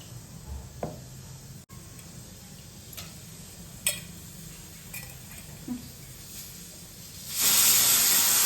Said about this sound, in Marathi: आता आपण कुकरला शिजायला टाकूयात